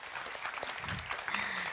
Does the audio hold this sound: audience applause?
yes